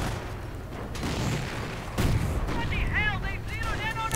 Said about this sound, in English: And artillery flying away